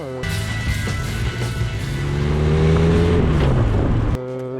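A historic single-seater race car engine roars loudly up close, its pitch climbing steadily under hard acceleration before cutting off abruptly near the end, then briefly returning.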